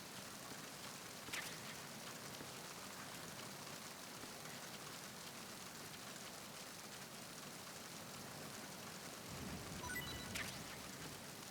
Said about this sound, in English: You're stuck in the rain.